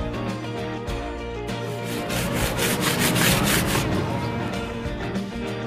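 A stiff brush scrubs glue off a license plate, back and forth against the hard surface, a continuous rough rasping that swells and fades over several seconds.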